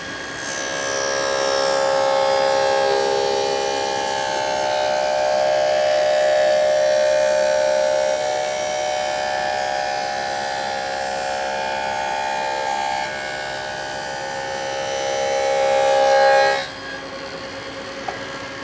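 A table saw cuts a board for an under-saw storage cabinet, a loud steady whine with a sustained tonal ring for most of the run, then swelling briefly before cutting off and spinning down near the end.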